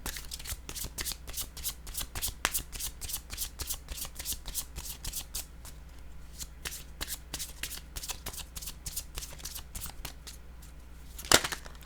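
Tarot cards shuffled and drawn by hand in a steady run of quick, crisp riffles and flicks, close and clear, ending with a sharper slap as a card is pulled.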